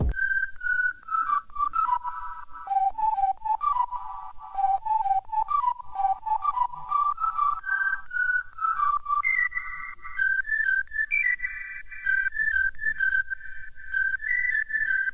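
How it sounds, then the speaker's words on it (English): A synthesized whistle lead plays a winding melody of held and gliding notes, bathed in reverb over soft, ticking percussion. "Layer that with a whistle."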